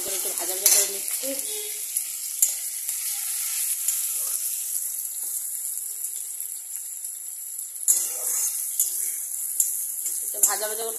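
Crushed onion and garlic sizzle in hot oil in a wok for a mutton curry, a steady close hiss broken by scraping stirs and occasional utensil clinks.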